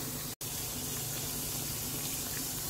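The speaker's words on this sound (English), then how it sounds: "I'm going to go ahead and put the water in so it can be steaming" Water pours steadily into a cooking pot to steam okra, a close, continuous splashing gush with one very brief break near the start and no talking.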